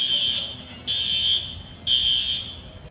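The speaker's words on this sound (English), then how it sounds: "You can hear the sound of the newly installed smoke detectors at the newly renovated Super 8" Newly installed smoke detectors at a renovated Super 8 motel sound three loud, shrill electronic beeps, each lasting about half a second, repeating at an even pace with no voices.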